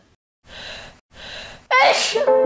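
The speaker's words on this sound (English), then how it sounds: "Because people sneeze." Two sharp inhaled gasps build up, then a loud, forceful sneeze bursts out close by.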